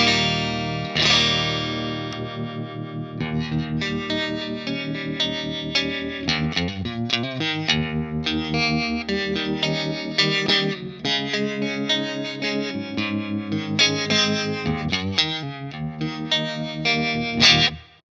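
Electric guitar through a JHS 3 Series Harmonic Trem pedal with no overdrive, chords and notes pulsing with steady modulation, played continuously and alone, close and fairly even in level.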